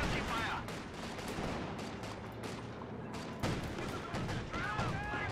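Dense gunfire from Company of Heroes 2, with a machine gun and other weapons rattling in continuous bursts over a busy battlefield mix, loud and sustained throughout.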